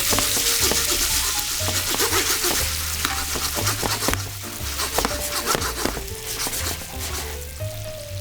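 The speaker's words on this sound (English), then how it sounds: "We're gonna just let those simmer in the oil and the fat for about a minute more" Breakfast sausages fry in a pan of hot oil and fat, giving a steady loud sizzle with crackling pops and occasional stirring scrapes throughout, with no voices.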